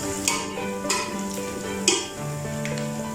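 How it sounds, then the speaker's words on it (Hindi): Whole garam masala spices fry in hot oil in a pot, giving a soft continuous sizzle with a few sharp clinks and taps of a spoon against the pot. "मसालों को हल्का सा फ्राई कर लेते हैं"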